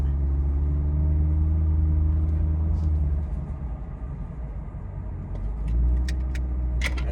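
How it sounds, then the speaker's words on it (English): Steady low rumble of a 2023 C8 Corvette Stingray V8 sports car cruising in tour mode, heard from inside as a constant drone with a slight swell in engine note, plus a few faint clicks near the end. "Driving the 2023 C8 Corvette."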